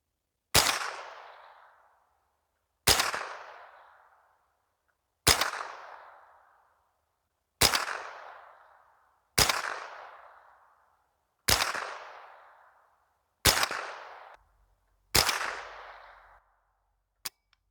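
An AK-47 rifle fires eight single shots, roughly two seconds apart. Each shot is a sharp, loud crack with a short decaying echo, and there is quiet between shots.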